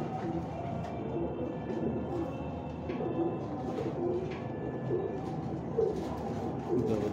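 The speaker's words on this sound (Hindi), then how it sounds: "ये भी हमारे टैडी कबूतर हैं, ये हमारे पुराने कबूतर हैं" Teddy pigeons kept for years on a rooftop coo and burble in repeated low calls, close and steady across the whole stretch, over a faint ambient hum.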